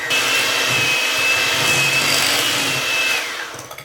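An electric hand mixer beats sugar together with cream cheese, whirring at a steady high pitch for several seconds before winding down at the end. No one talks over it.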